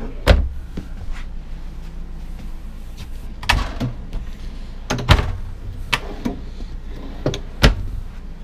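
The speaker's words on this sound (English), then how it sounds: "Roller drawers, so you can pull the drawers all the way out and load them with clothes." Deep roller drawers in a Thor bunk camper, slid open and shut several times, each pull ending in a sharp knock or thump, with quieter rolling between the hits.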